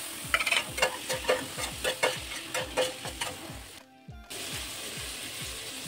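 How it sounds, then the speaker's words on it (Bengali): Mixed vegetables with tomato, salt and ground cumin sizzle in a pan while being stirred and pressed in rhythmic scraping strokes, loud and close, with a brief pause before frying resumes. "এবার একটু টমেটো দিয়ে দিলাম, টমেটো দিয়ে সুন্দর করে একটু কষে নেব"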